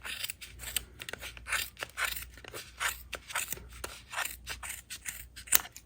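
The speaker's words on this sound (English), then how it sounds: "next we're going to trim." Scissors snipping through strands of bulky crochet yarn while finishing an elf hat, a quick irregular run of close, crisp cuts and light rubbing with no talking.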